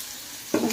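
Quiet background gives way to a sudden loud sizzle as onions hit hot oil, continuing to crackle and hiss steadily.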